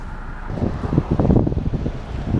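Strong wind buffets the microphone in steady rumbling gusts beside a roadway, with low, rough roaring that swells in the middle and stays close and loud throughout.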